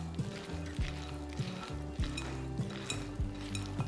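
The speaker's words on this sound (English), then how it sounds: "Let's add in the 1 egg and stir to combine." A spatula stirs a beaten egg into a thick side-dish mixture in a bowl, giving soft wet scraping and clinks against the dish, close by, over a low steady hum, with no talking.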